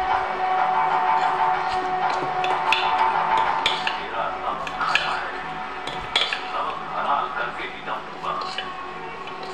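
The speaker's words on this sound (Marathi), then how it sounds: "मी चवीपुरतं मीठ टाकलं, व्यवस्थित मिक्स करून घ्यायचं" Rice-flour-free ghavan batter being mixed with salt in a bowl, with a spoon clinking and scraping against the dish in irregular bursts, close and busy, with some faint background voices.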